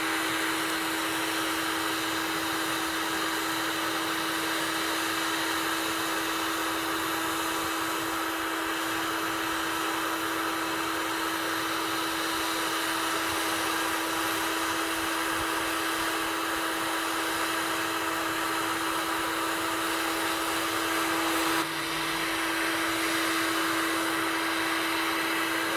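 A heat gun shrinks heat-shrink tubing onto a repaired fuel cap retaining tether from a VW or Skoda, blowing with a loud, constant whirring roar and a steady tonal whine, running unbroken throughout.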